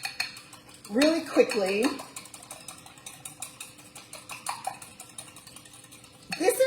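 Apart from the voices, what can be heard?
whisking two eggs in a bowl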